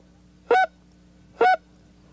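Two short, raspy Canada goose honks from a goose call, each breaking from a low note to a higher one, evenly spaced and close.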